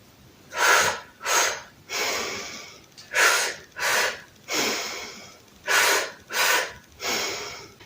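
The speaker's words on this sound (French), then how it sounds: "vous inspirez 2 fois la bouche en haut assez brièvement et 1 fois longuement vous expirez par le nez" One person performs a breathing exercise, two short sharp inhales through the mouth followed by one long exhale through the nose, repeated three times close up.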